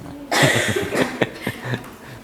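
Someone coughs several times in a short, rough fit in a classroom, fairly close, with a small pause between the hacks.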